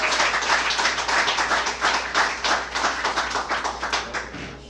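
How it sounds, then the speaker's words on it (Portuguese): Church congregation at a Nova Vida service clapping in a loud, rhythmic praise applause, sharp claps pulsing steadily throughout with no talk. "aplauda o Senhor com o seu melhor"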